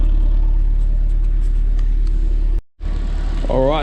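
A car engine idles while warming up, a loud steady low rumble that drops out briefly before resuming, with a rising whine near the end.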